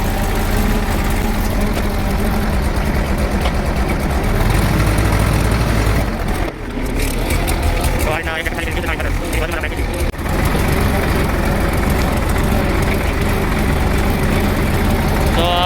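A heavy diesel tractor engine rumbles loudly and continuously close by, with a knocking chug, while people talk over it.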